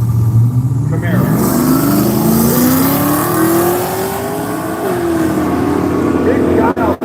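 Camaro drag car launching down the strip at Seattle International Raceway, a loud engine note sweeping up through the gears over several seconds, with crowd and announcer sounds mixed in.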